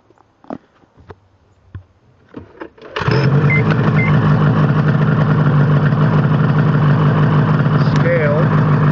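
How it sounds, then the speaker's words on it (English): A Ski-Doo snowmobile engine catches after a few faint clicks and knocks, then settles into a loud, steady idle close by, with a brief voice heard over the running engine near the end. "I'm going to start the sled"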